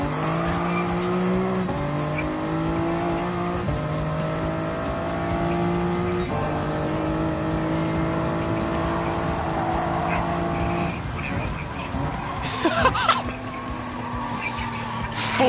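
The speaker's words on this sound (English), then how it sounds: "I'm gonna take my go-kart around the Nordschleife." Shifter go-kart lapping the Nordschleife in a racing game, its high engine note climbing through repeated upshifts, then tires squealing and skidding near the end, loud and close.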